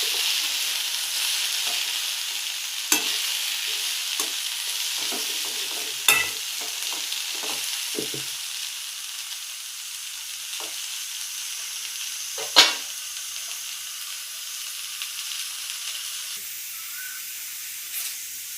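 Potatoes fry in a pan with a light, steady sizzle and hiss, broken by a few sharp scrapes and taps as they are stirred, one louder clack standing out midway; no voices are heard.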